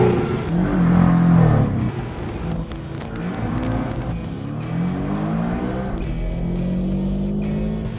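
A Porsche 718 Boxster convertible sports car engine revving and droning as it drives, the pitch rising and falling with acceleration, loud and continuous.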